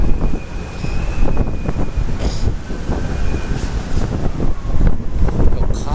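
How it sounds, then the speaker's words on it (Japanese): Strong wind buffeting a microphone outdoors in Shinjuku, Tokyo, a loud, continuous low rumble with gusty surges, mixed with city traffic noise and a voice speaking. "風やばいよ。"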